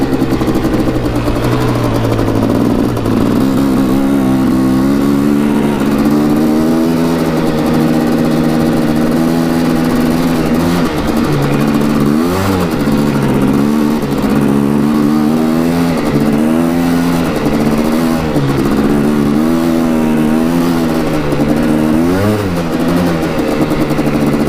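A Quadzilla Banshee 500cc quad idles loud and close, its engine droning steadily and then revving up and down in repeated throttle blips over a constant rough growl, with no voices.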